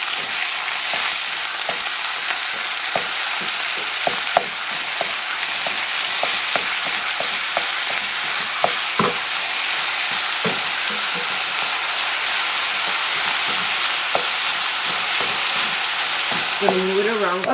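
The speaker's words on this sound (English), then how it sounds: "So we are cooking our meat." Ground meat for tacos frying in a pan, a continuous close sizzle broken by repeated scrapes and taps as it is stirred and moved around.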